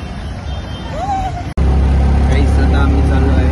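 An auto-rickshaw engine drones loud and close on a road near Mahuli fort, a steady low rumble that jumps louder partway through as it pulls away, with voices chattering over it.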